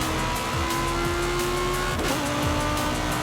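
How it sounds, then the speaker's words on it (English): Evo car engine in Forza Horizon 5, racing game audio: a steady loud engine drone holding pitch with a gear-change dip near two seconds, then continuing with tire noise underneath, no talk. "That sounds really nice, this engine."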